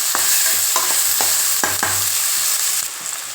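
Onions and green field beans sizzle steadily in a hot pan, with a spoon scraping and stirring in irregular strokes, close up and with no talking.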